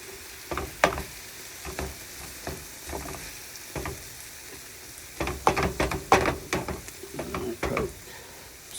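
Ground beef browning in a pan, a soft continuous sizzle with irregular scraping and tapping as the meat is stirred, the stirring busiest and loudest toward the end.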